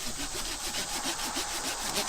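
A hand saw cuts through firewood in steady, rhythmic back-and-forth strokes, close and fairly loud, with no voices over it.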